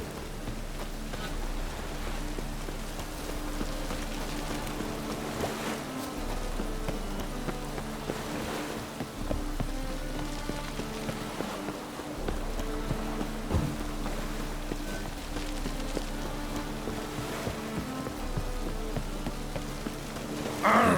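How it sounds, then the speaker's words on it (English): Steady rainfall in The Witcher 3: Wild Hunt, a continuous hiss of rain on surfaces with a low rumble underneath, lasting the whole stretch at an even, moderate level. "Looks like rain."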